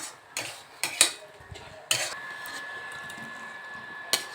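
A utensil scrapes and taps in a pan of prawn and pumpkin ghonto with garam masala, giving a few sharp clinks and softer scraping strokes against a quiet background.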